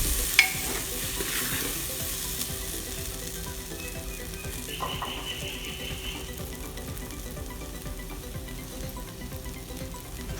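Bhindi and moong dal with turmeric fry in a pan while being stirred, a soft continuous sizzle with occasional spoon scrapes and taps, fairly quiet and close.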